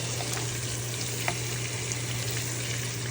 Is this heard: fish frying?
yes